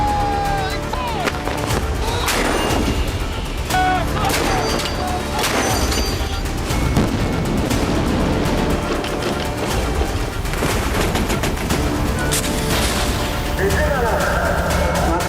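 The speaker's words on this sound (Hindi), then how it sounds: "तोपों से भी जमकर बम बरसाए गए।" Artillery booms and rapid bursts of gunfire crash repeatedly in a loud, continuous barrage during a Chinese military drill in the Himalayas, with a voice talking over parts of it.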